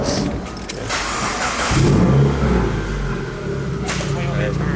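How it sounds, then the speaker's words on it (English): A Subaru WRX engine cranks and fires up at around two seconds, then settles into a low steady idle, close by in a garage, with speech heard before and after the start. "We're gonna go ahead and start the car and see exactly where the wheel hits"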